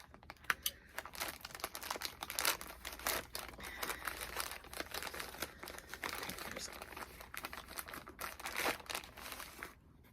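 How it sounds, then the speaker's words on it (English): Paper on a mail package crinkles and rustles in close, irregular bursts as it is carefully opened, soft and quiet overall. "I'm going to be very, very careful opening this"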